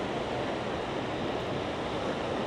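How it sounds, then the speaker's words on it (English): Rough sea waves break continuously on a black volcanic sand beach at Puerto de la Cruz, a loud, steady roar of surf with wind, no pauses and no voices. "I love great big waves and breakers."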